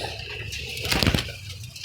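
A pigeon coos softly and shuffles close by, with a brief burst of rustling movement or wing flutter in the middle.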